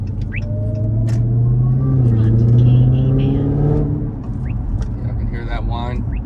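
A Dodge Hellcat Charger Widebody drives on a highway, its engine rumbling with a rising and falling tonal whine over the drone. People talk throughout.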